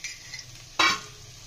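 Refined oil tipped into a drying pan of spices for kachuri filling triggers a sudden sharp sizzle burst after a quiet low fry with faint stirring, close and short.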